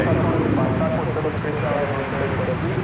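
An Airbus A321 takes off at DFW Airport, its engines a steady distant rumble and roar under a person talking nearby.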